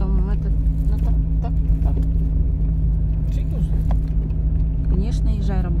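A car drives along a road on a Sunday morning trip to work, its low engine and road rumble steady throughout while people talk inside.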